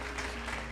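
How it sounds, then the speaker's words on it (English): A church congregation claps hands in praise, a short burst of dense, steady applause at moderate level with no voices rising above it. "Give the Lord a great hand clap of praise"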